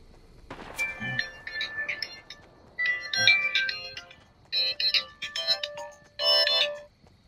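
A cell phone ringtone sounds during a Fortnite match, a repeating electronic melody in bursts that start and stop over several seconds, fairly quiet and with no talk over it.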